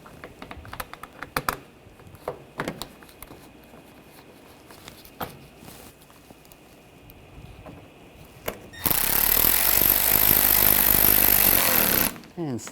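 Screws go into a panel during an intercooler replacement on a 2013-2022 Buick Encore 1.4L. Scattered clicks and taps of parts being lined up give way to a roughly three-second whir of a power driver near the end.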